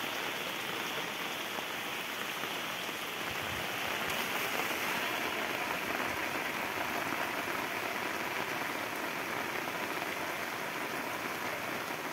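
Steady rain falls on a flooded rice field during paddy planting, a dense and constant hiss with patter from drops hitting water. It is loud and fairly close, with no voices.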